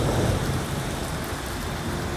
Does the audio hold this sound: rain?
yes